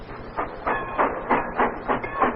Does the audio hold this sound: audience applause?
no